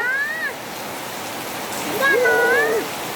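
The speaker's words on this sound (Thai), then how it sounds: "ก็มันก็เห็นฝนตกเลย" Steady rain hisses throughout in Laos, with a faint wavering tone drifting above the downpour.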